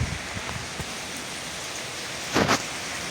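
Steady rain hisses softly in the background, with a brief louder patter of drops near the end.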